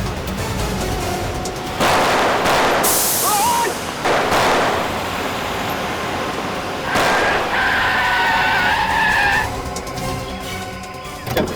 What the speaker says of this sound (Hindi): चला दे गाड़ी दोनों में।